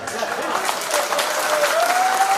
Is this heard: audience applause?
yes